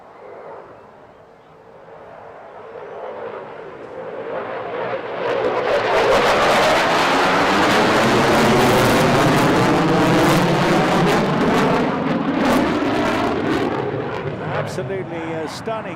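An aircraft departs at the 2023 Bournemouth Air Festival, its roar swelling from a low rumble into a loud, sustained, broadband blast before slowly tapering off.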